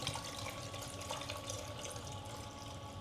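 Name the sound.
water poured from bottle into egg incubator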